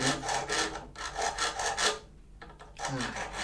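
A small saw-file rasps back and forth in quick strokes cutting a guitar nut slot, a short burst of scraping, a pause with light clicks, then more rasping.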